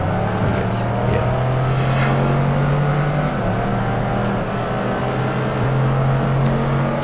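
Pagani Zonda race car in Project Gotham Racing 2 on Xbox, its engine droning steadily at near-constant revs with small pitch dips, loud and continuous, with a voice talking over it at times.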